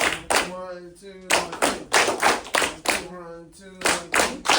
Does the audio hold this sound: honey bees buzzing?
no